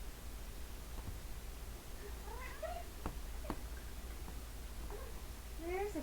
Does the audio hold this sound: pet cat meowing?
yes